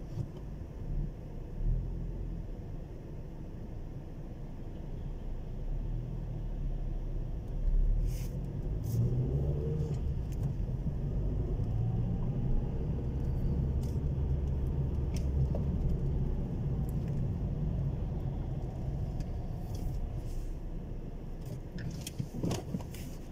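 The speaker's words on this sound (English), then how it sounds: "the road is a little bit busy with traffic" Steady road rumble from inside a car driving along busy Wheatfield Road in Lewsey Farm, Luton, with traffic around it after school hours, a low continuous drone with occasional faint clicks and brief passing swells, no talking.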